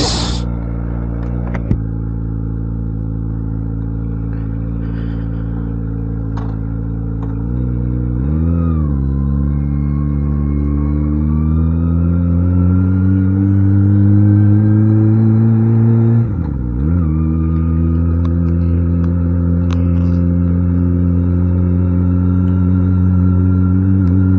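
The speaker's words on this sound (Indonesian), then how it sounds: "Ya ini untung knalpotnya slip on ya, jadi suaranya tuh nggak terlalu menggelegar dan nggak terlalu berisik" A Kawasaki Ninja ZX25R with a slip-on exhaust on a test ride, its engine droning steadily with rising and falling revs and a couple of gear changes, moderately loud and close, without speech.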